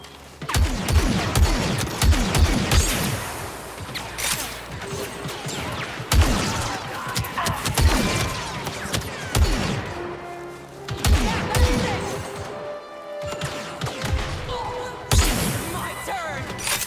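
Heavy gunfire strikes a rebel patrol in the 2016 space combat game Dreadnought, firing as repeated loud, punchy bursts and crashing impacts in uneven waves, with brief quieter gaps between volleys.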